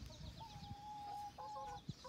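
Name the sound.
chickens clucking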